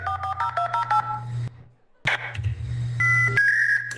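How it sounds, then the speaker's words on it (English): Telephone keypad tones beep in a quick sequence of short dial presses, followed by a brief silence and then a line connecting with steady electronic tones, close and clear. "Guys, I found this cool number that I'm gonna call."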